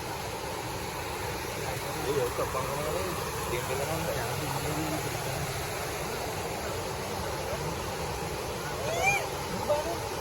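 Strong rushing water at Devarapalli waterfall makes a steady broadband roar throughout, with people talking over it.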